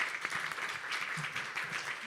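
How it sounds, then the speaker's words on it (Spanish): A conference audience at an annual assembly on education applauds its panelists, an even, continuous patter of clapping heard at moderate distance and fairly low volume. "Un aplauso para nuestros panelistas."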